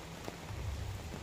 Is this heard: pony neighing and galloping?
no